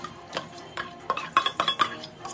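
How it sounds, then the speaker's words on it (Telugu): A spoon scrapes and clinks against a metal vessel in a quick run of stirring strokes, mixing cooked rice with tamarind sauce for pulihora, close and fairly loud, with no talking. "వేసి ఇదంతా బాగా కలుపుకోవాలి"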